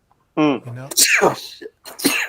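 A single close, sharp human sneeze with a voiced onset, followed by a person speaking briefly.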